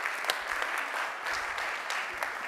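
A seated audience applauds in a steady, even wash of many hands clapping. The sound is moderately distant and consistent throughout, with a few sharper claps standing out.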